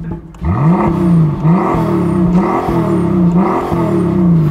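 A Brabus G800's V12 engine without a petrol particulate filter revs hard in repeated rising bursts, exhaust note climbing and dropping several times, loud and close.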